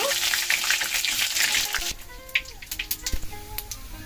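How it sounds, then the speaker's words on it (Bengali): Cumin and bay leaf frying in hot oil for a Bengali rohu fish curry, a loud bright sizzle at first that quiets into scattered spattering pops and crackles. "জিরা 1 চামচ, তেজপাতা দিয়ে ভেজে নেব।"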